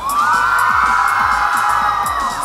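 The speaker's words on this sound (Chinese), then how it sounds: "二楼朋友的尖叫声，好不好？" A crowd of about five thousand fans at a pop concert in Taipei's Xinyi district screams and cheers continuously, loud and dense, with a sustained high-pitched roar.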